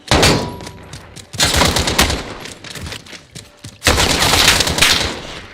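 Pistol gunfire in a video game, loud close shots in rapid bursts with short pauses between volleys.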